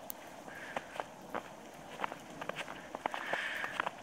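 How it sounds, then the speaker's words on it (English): Footsteps crunching through fresh snow in a winter mountain setting, a string of soft irregular crunches at walking pace, close and fairly quiet, with no talking. "It's the sound when you're walking in snow!"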